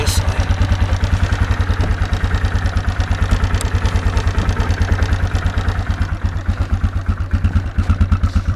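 A 2004 Yamaha Kodiak 450 ATV idles loud and close after a cold start in wet snow, its single-cylinder engine putting out a steady, rapid chugging pulse with a slightly uneven, clattery edge that runs alone throughout.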